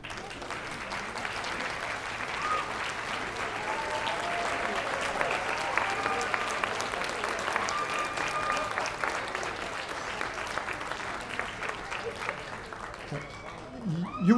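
Students at a college baccalaureate ceremony cheering and applauding their standing parents and loved ones, a large crowd clapping steadily and loudly for the whole stretch with scattered whoops.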